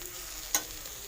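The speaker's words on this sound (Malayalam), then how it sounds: "നന്നായിട്ട് തിളച്ച കുറച്ച് വെള്ളം ചേർത്ത് കൊടുക്കണം" Boiling water poured into a hot pan of Kerala-style egg curry gives one brief sizzling burst that quickly fades, alone and fairly close.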